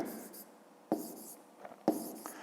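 Pen scratching on paper while numbers are hand-written for a fifth-grade maths exercise: soft, close scraping strokes broken by two sharper taps, with no voices.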